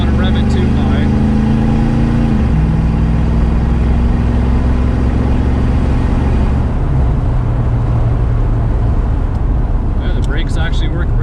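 An old Ford Foxbody Mustang engine runs steadily with a low, rough idle and mild revs, loud and close throughout, a few faint clicks near the end.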